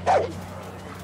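A single short dog bark rings out close in Far Cry 6, followed by a low steady game background.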